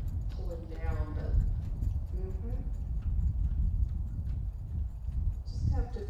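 A horse trots steadily through a dressage lesson, its clip-clopping hooves beating a regular rhythm close by while an instructor talks over it and a brief whinny-like sound rises near the end.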